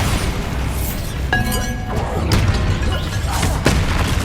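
Bombarda blasting spell detonating in Hogwarts Legacy, a loud booming explosion with crashing, shattering debris and several follow-up thuds over rumbling battle noise.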